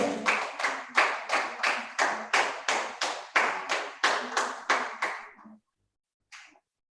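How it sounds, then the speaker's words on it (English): Audience at an international leadership and skill development program at Oasis Public School applauds the guests, a steady burst of claps about five and a half seconds long in pulsing waves, then a brief faint patter after a pause. "Let's give a big round of applause."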